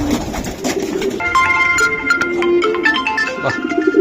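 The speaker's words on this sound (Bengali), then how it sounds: "এই যে এই সাইডে কিছু কবুতর আছে, এগুলা ভাই রেসে দিবে" Racing pigeons coo in a loft, soft and close, with repeated throaty calls overlapping one another against a mild background murmur.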